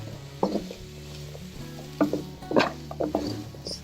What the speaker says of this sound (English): I just added some oil and I put the chopped up Karela in it